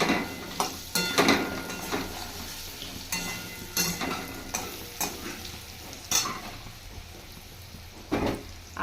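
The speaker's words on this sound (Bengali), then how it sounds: "আর এই যে দেখো আলুটা একটু হালকা করে ভেজে নিতে হবে" Potatoes lightly frying in a pan for a bata fish and ridge gourd curry sizzle up close, with frequent clattering scrapes of a spatula against the pan in irregular bursts.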